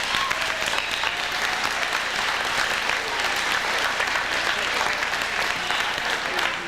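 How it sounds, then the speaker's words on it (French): A crowd at a country barbecue claps for a volunteer, sustained and fairly loud even applause that keeps going without a break. "je pense qu'il vaut vraiment une bonne main d'applaudissement"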